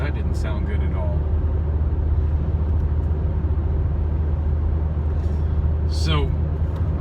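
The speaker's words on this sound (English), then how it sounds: "What the hell is that noise? I sure hope that's somebody else's vehicle, because that didn't sound good at all." A strange noise from a vehicle: a steady low engine and road rumble with short, high squealing chirps near the start and again near the end.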